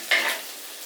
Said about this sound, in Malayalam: ഇത്ര സാധനങ്ങൾ നമ്മൾ ഇതിനകത്തോട്ട് ചേർത്ത് കൊടുത്തിട്ട് നല്ല അടിപൊളിയായിട്ട് മൂപ്പിച്ചെടുക്കണം